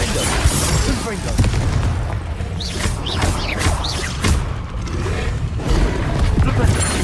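Spell blasts in the Hogwarts Legacy video game, with booming impacts, whooshes and pops scattered through a busy fight under steady game sound and voices.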